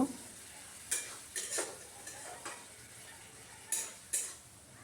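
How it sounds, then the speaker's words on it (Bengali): Spices being stirred with sour yogurt in a frying pan for soybean kosha, several distinct spoon clinks and scrapes against the pan over a faint low sizzle, no talking. "টক দই দিয়ে আবারও নাড়াচাড়া করে নেব"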